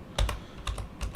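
A computer keyboard is typed on in three quick pairs of clicks, the keystrokes close and crisp over a faint room background, with no one speaking.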